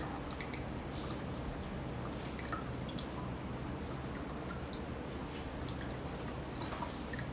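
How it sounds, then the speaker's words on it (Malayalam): A blended mixture of milk and ripe mango poured into a glass while making mango falooda. A soft, continuous liquid hiss runs steadily throughout with no talking. "നമ്മുടെ മിക്സ് ചെയ്ത് വെച്ചിട്ടുള്ള പാലും മാങ്ങയും കൂടിയുള്ള മിക്സ് ഒഴിക്കുന്നുണ്ട്"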